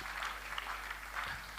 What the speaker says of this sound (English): round of applause to everyone on stage.